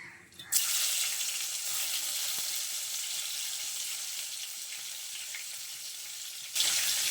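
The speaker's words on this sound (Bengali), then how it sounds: "তেলটা খুব ভালোভাবে গরম হয়ে গেছে আর গ্যাসটা আমি হাই হিটে রেখেছি। এখন দিয়ে দিচ্ছি লঙ্কা কুচিটা।" Chopped green chillies drop into very hot oil on high heat, bursting into a loud, dense sizzle that holds steadily for several seconds and then flares up again near the end, with no voices.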